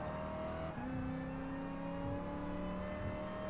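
A race car engine with over 600 horsepower at a Gran Turismo Sport Nostalgic Car Festival race, a steady loud whine that shifts pitch as it revs and changes gear, no talking.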